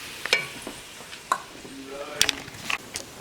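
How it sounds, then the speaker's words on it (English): Chopped onions sweating in a pan, cooked until translucent: a soft, steady low sizzle under scattered clinks and utensil taps, with the cook's voice speaking faintly at times. "right now we're just gonna let this sweat until the onions are cooked"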